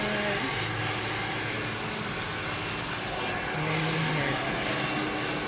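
A steady, loud blowing roar with a constant airy hiss, like a hair dryer running close by without pause.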